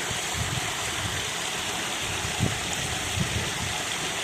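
Water flowing steadily in a stream beside a hill tunnel at Hades Hill near Wardle, a broad continuous rushing wash close by with a few faint low thumps.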